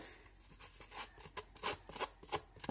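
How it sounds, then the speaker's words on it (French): Large scissors scraping the edges of a paper card to rough them up, giving a series of short, close, dry rasping strokes in an irregular rhythm. "Vous venez gratter avec un gros ciseau."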